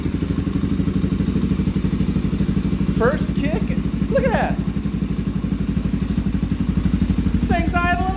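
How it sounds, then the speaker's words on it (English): A Suzuki DRZ 470sm stroker motorcycle engine idles steadily and loudly close by in a garage, a continuous low throbbing rumble throughout, with a few brief spoken words over it. "Thing's idling like a champ."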